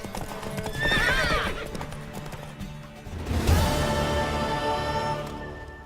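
A horse's hooves clop rapidly in a gallop while it lets out loud whinnying neighs, once early and again later, close and prominent, from the video game The Witcher 3.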